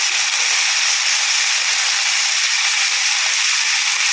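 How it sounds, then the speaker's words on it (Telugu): Chopped spinach sizzling in hot oil in a pan, a steady, even frying hiss held throughout at close range with no talk. "దీన్ని ఇప్పుడు మనం ఆయిల్లో వేసి కుక్ చేయాలి."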